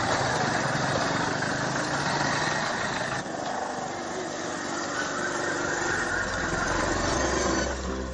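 Motorbikes and scooters ride along a busy city street, a steady mid-loud engine drone with traffic noise continuing throughout, no voices.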